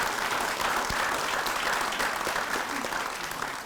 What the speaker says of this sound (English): If you could give them a huge round of applause.